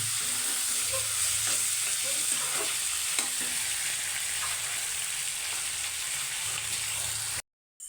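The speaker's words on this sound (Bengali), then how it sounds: "দিল টমেটো দিয়ে এখন নাড়াচাড়া করে নেবে ভালো মতো" Tomatoes frying in a pan with fish curry ingredients, a steady loud sizzle with scraping stirs throughout, ending in a sudden cutoff.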